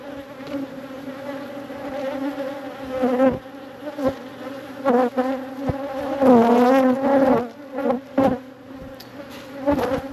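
Honeybees drone around a backyard hive in a steady, dense buzz close by, with pitch swelling and dipping as individual bees fly near, plus occasional handling bumps.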